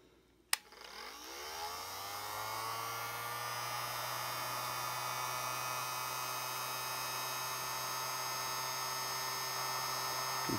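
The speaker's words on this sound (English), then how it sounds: "And then we're going to get a heat gun." A heat gun shrinking a grip onto a drumstick starts with a click and spins up into a steady whirring hum, close and fairly quiet, running alone to the end.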